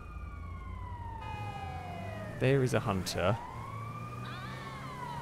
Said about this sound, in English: There's still sirens going on.